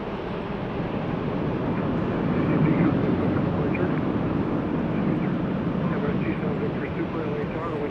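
Airliner taking off from runway 24 left at LAX: a broad, swelling jet roar that builds and peaks midway, then stays steady, heard from a distance with a voice talking over it.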